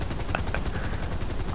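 Helicopters in GTA 5 Online during the Humane Labs heist raid, a steady droning rotor wash filling the scene with a couple of brief sharp accents, like distant gunfire, over it.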